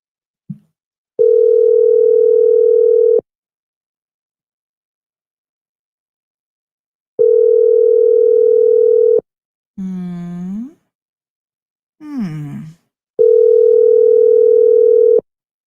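Steady telephone dial tone sounds in three separate bursts of about two seconds each while a call is being placed, with a short stretch of warbling, voice-like tones between the last two.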